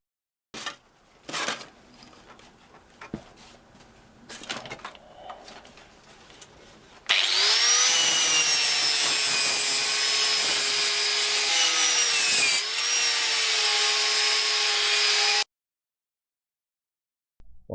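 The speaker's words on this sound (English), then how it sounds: "using a wire wheel and a good respirator, I cleaned off as much of the rust as possible" A power-driven wire wheel scrubs rust off old wood saw blades, a loud, steady whirring grind lasting about eight seconds after some quieter handling clatter, then it cuts off abruptly.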